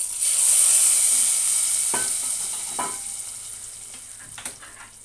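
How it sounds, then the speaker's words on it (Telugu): Hot spiced oil tempering is poured into a pot of sambar, giving a loud hissing sizzle at once that slowly fades, with a few spoon clinks toward the end. "తాలింపు ఇప్పుడు సాంబార్లో వేసుకుందాం."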